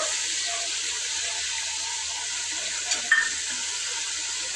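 Chicken biryani masala being stirred with yogurt, garam masala and coriander powder in a pot, a steady close sizzle with soft wet scraping and a brief clatter near the end.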